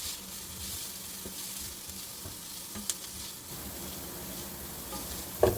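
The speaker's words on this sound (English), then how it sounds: "Stir it in and let it cook for about 30 seconds." Garlic frying in a skillet makes a faint, steady sizzling hiss throughout, with a couple of brief stirring clicks and a small clank near the end, quiet and unaccompanied by voices.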